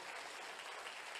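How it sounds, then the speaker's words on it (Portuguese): A church congregation applauds. The clapping is brief and dense, heard faintly at low volume. "aplaude a Deus, aplaude"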